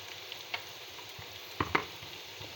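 Onions frying in a pan with salt and turmeric for a fish curry, a quiet steady sizzle with a few light taps and scrapes from stirring.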